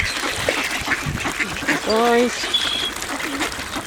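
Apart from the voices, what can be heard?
pintail ducks quacking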